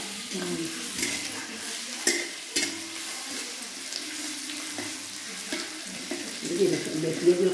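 Mutton cooks in rice bran oil over a gas flame in a village kitchen, with soft sizzling and frying under scraping stirs and occasional clinks of a utensil against the pot, and faint voices in the background.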